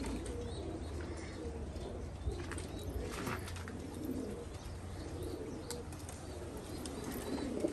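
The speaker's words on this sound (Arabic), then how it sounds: "هاي طيرة وفحل حلقة وردية" A ringed breeding pair of pigeons coo softly and steadily, with faint chirps and occasional wing rustles mixed into a low, continuous background.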